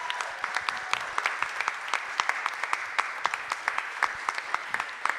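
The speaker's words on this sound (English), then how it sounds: "One more round of applause for our panelists tonight." Applause for the panelists at the close of a Letras Latinas literary reading, made of crisp, distinct claps from a modest audience, fairly quiet and sustained.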